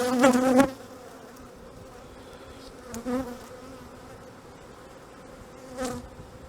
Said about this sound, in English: The bees look alright. They are jittery, but they're not juddery.